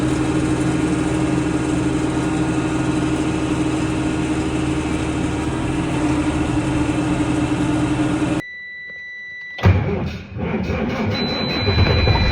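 A Freightliner truck idles while warming up on a cold morning, a steady, close, low diesel drone that cuts out abruptly near the end before rough handling noise resumes.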